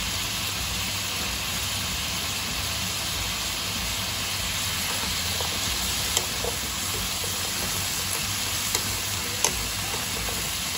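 Carrots and green peas stir-frying in a pan, a steady close hiss and sizzle with occasional faint clicks of stirring, continuous and even throughout with no talking.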